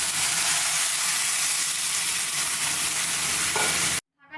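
Shrimp and fig curry sizzles loudly and steadily in a pan, a bright frying hiss holding for about four seconds, with a brief splash of water near the end before it cuts to near silence.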